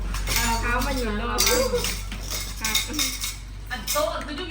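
Cutlery and dishes clinking in a kitchen while Lao fish dip is cooked, light scattered clinks and scrapes nearby under steady talk.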